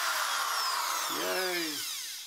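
A DeWalt Super Duty power drill runs with a continuous high, gritty whine, close and steady. A wavering tone dips and climbs midway before the motor noise eases off toward the end.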